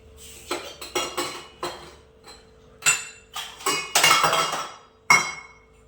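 Metal dishes and vessels clink and clatter in a home kitchen in a series of sharp, close knocks and rattles. The sounds come irregularly, with a louder jangling cluster near the end.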